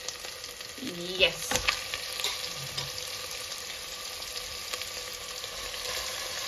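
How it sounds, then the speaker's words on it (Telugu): Marinated goat head curry (talakaya kura) goes into a hot pan over spice paste and fries with a steady, close hiss of sizzling, with some stirring clatter early on and a brief word spoken. "మనం మిక్స్ చేసుకున్న తలకాయ కూర దీనిలో వేసేస్తున్నాం గైస్."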